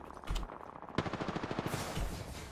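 Gunfire in the shooter game Apex Legends: a loud blast opens a fast, steady burst of automatic shots that rattle on for about a second, followed by a brief spray of further fire, all close and with no talking.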